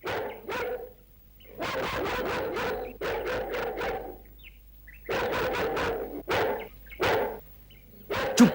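A dog barks repeatedly in loud, close bursts with short pauses between volleys, several sharp yaps in quick clusters, with faint bird chirps in the background.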